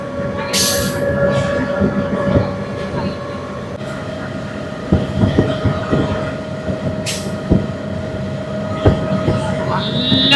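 A train runs at speed through the Western Ghats between Palakkad and Walayar, a loud continuous rumble with rhythmic clicks and clacks of the wheels and a few sharp bangs, heard from inside the carriage.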